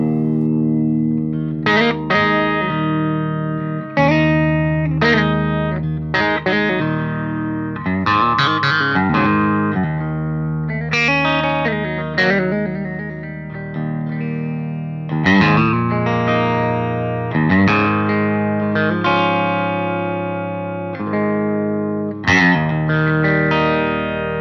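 Springer Seraph CP90 electric guitar played through a 20-watt amp and a pedalboard of effects rings out in chorused, distorted chords and sustained notes with reverb, loud and continuous, with no voices.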